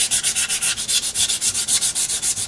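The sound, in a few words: sanding rust with 220 sandpaper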